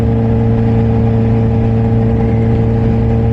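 A Kawasaki H2 motorcycle engine runs loud and close, a steady droning hum with a strong even tone and no clear rise in revs, heard alone without talk.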